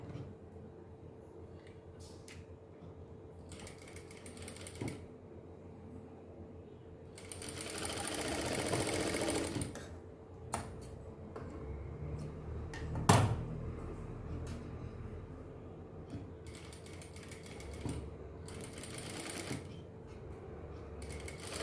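A sewing machine stitches the lining of a miniature doll dress in short whirring runs separated by pauses, with one longer, louder burst of stitching and a sharp click midway.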